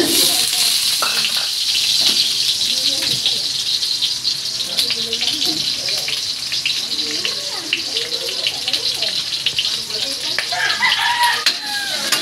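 White onion sautéing in a little cooking oil for a sweet and sour sauce to go with bangus, giving a steady close sizzle and hiss throughout with a voice talking faintly underneath.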